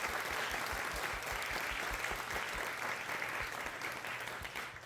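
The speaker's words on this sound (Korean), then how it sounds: "우리 선교사님께 감사하다고 우리 박수 한번 드리겠습니다." A church congregation applauds after a missionary's sermon at a Sunday service, steady overlapping hand claps that carry on evenly through a large room for several seconds.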